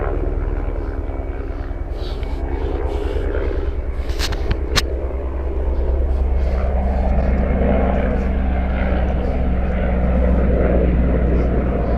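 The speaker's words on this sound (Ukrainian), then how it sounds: "Так, і винтокрили літають." A helicopter flies low overhead above a river at Kam'yanka near Zhytomyr, its steady rotor and engine roar loud throughout and swelling a little as it passes, with no talking.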